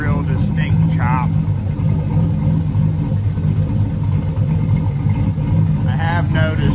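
A turbocharged 4.8 V8 with a Trick Flow 216/220 cam idles steadily with a low, even rumble and only a faint lope, close and continuous throughout, with a few brief high squeaks over it.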